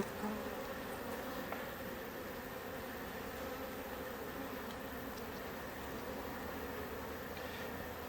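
Honeybees buzz steadily at a hive in woodland at the end of the beekeeping season in Italy, a continuous close drone with no voices.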